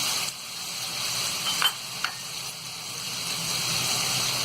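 Mutton liver (kaleji masala) sizzles steadily in a pan for Bakra Eid, a continuous broadband hiss and crackle with a couple of brief sharper pops, close and fairly loud, with no voices.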